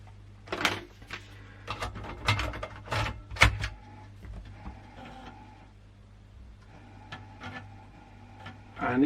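An old Amiga A500 computer boots from floppy disk with irregular mechanical clicks, clunks and whirring from the disk drive, loud bursts early, then quieter ticking.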